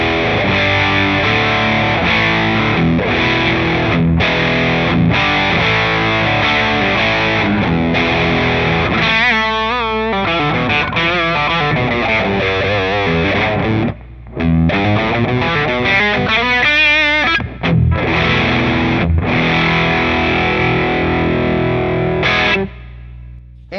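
An electric guitar runs through a simple hard-clipping distortion circuit with 4148 diodes clipping to ground, playing loud, buzzy, saturated chords and riffs continuously, with brief gaps between phrases.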